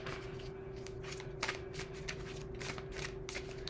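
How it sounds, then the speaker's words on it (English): Tarot cards are shuffled repeatedly in quick riffling bursts, close and fairly quiet, over a steady low hum. "I usually shuffle until something comes out."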